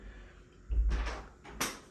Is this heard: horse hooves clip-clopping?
no